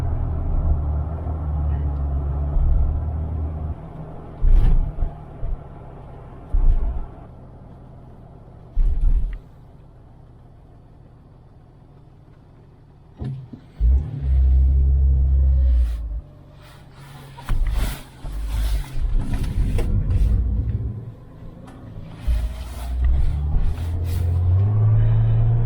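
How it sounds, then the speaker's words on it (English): A 2001 Jeep TJ Sport's inline six-cylinder engine accelerates, a deep, loud rumble swelling in repeated surges with short quieter gaps, heard close from inside the vehicle. "the 6-cylinder engine, I'm quite happy with the acceleration."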